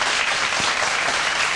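A TV studio audience gives steady, fairly loud applause welcoming a band, dense clapping throughout with a single low thump partway in and no talk.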